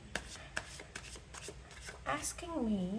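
Tarot cards being shuffled and drawn, a few crisp slaps and soft papery riffling taps, followed by someone talking.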